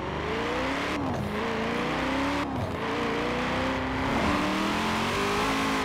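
A Hennessey Venom GT engine revs hard in the racing game Forza Horizon 4, a loud, steady roar rising and falling in pitch through several throttle blips with no voices over it.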